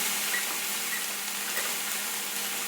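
Onions and garlic sautéing in a pan on medium-high heat, giving a steady, close hiss and sizzle with faint crackles throughout and no talking.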